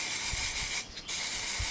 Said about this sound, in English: simply get a can of black